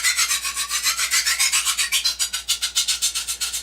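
A knife blade is stroked rhythmically across a sharpening surface, about twenty even rasping strokes that speed up slightly toward the end. The sound is close and steady, with no voices.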